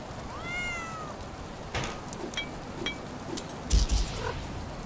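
In the game Born Punk, a cat gives a clear rising-then-falling meow near the start, followed by scattered clicks, thumps and game effects over a soft background hiss.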